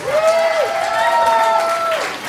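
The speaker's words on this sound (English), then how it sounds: "Keep the round of applause going until they've left the stage" Audience applause and cheering at a rock school concert, a steady wash of clapping and crowd noise with a high sustained cheer or whistle riding on top throughout.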